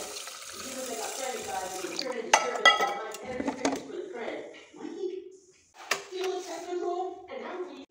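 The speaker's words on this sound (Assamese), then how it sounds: "এইফালে চাউলত পানী দি দিওঁ" Water poured from a tap into rice in a rice cooker pot, a brief splash among clinking pots and dishes and handling sounds in a home kitchen, with someone talking over it.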